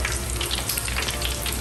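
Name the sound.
breaded food frying in oil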